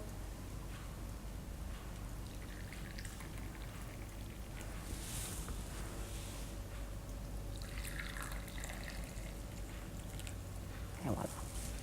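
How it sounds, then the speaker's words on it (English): Coffee pours from a plunger cafetiere into a cup with a soft, continuous trickling and dribbling stream under faint background hiss, ending with a small clink. "Hold your lid when you pour."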